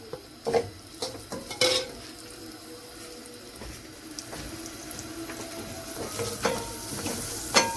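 Onions and salt fry in olive oil for peanut stew, with a soft sizzle and several clattering stirs near the start, then a quieter hiss and a little watery noise, close, with no talking.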